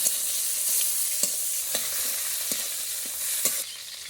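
Chopped tomato dropped into hot oil with onion, bay leaf, dried chilli and whole spices, frying in a pan for a Bengali shol fish curry; a steady close sizzle with several sharp scraping stirs of a spatula at irregular intervals.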